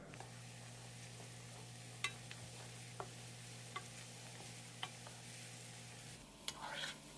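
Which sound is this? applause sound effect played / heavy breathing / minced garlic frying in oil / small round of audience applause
minced garlic frying in oil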